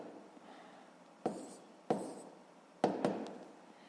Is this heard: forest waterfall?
no